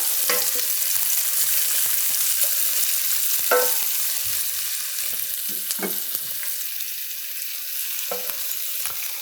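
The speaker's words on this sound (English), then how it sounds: "We're going to just let this cook, give it a little occasional stir for 2 or 3 minutes until the onions start to brown." Onions and garlic frying in seasoned oil in a pan, a steady close sizzle with a few scraping stirs of a utensil scattered through.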